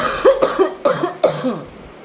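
A close, harsh cough repeated in a fit of about four chesty bursts, each with a rasping vocal edge, then trailing off.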